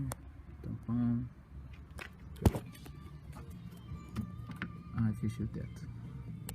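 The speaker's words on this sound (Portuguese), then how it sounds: "Fechei o teto." Sunroof closing on a 2017 Peugeot 208 Sport, two short whirring motor runs with scattered clicks and thumps inside the cabin, quiet and close, while a person talks.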